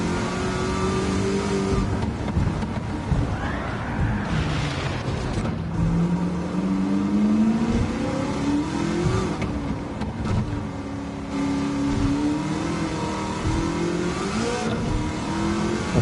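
A DeLorean with a swapped-in LS7 V8 races in Gran Turismo 7, its engine loud and close, revving up through gears in repeated rising sweeps with brief drops at each shift, no talk over it.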